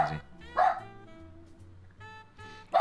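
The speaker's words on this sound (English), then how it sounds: "So he doesn't hear him bark." A pet dog called Max barks indoors in sharp bursts, a couple of close loud woofs at the start and end with quieter whining and yips between.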